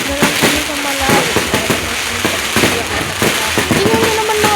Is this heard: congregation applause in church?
no